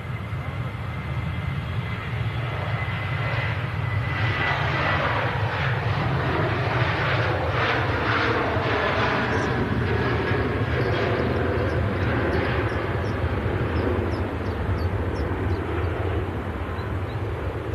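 An airliner departing Manchester Airport, a loud sustained jet engine roar with a sweeping rising whine, steady throughout and heard from nearby without talk.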